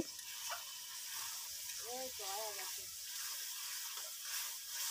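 Spice paste is stirred in a pan while boal fish cooks with gourd, giving a soft steady sizzle with light scraping stirs. A brief voice-like tone rises midway.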